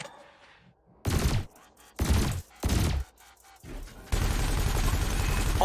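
Ship weapons in the Elite Dangerous space game blasting at floating canisters: four loud, heavy bursts of gunfire about a second apart, then a sustained burst of continuous fire, with no talk.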